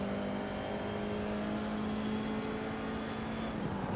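An FIA F4 race car in iRacing at Zolder holds a steady, loud engine drone with a sustained pitch, heavy braking and downshifting to second gear, then back on the throttle, with no talk over it.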